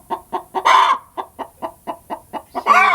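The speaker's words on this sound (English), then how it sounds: "So we've got a mad chicken." A hen disturbed while roosting on eggs gives a steady run of sharp, evenly spaced clucks, broken by two louder, drawn-out squawking calls, close and clear.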